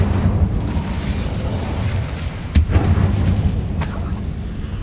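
Incendio fire spell cast in Hogwarts Legacy, a loud, continuous roaring burst of flame with deep rumbling body and a sharp crackling pop partway through, with no talking over it.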